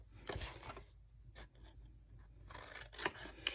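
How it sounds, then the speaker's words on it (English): Scissors snip the corners of a scored paper box in a few short, close bursts separated by quiet gaps, with faint paper rustling and no talk. "I'm going to cut my 4 corners same way, just cut up to that scored line."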